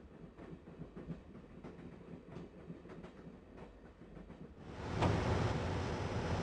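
A train rolls along its rails in the Broken Sword: The Shadow of the Templars game, a steady rumbling clatter that swells suddenly louder and brighter near the end.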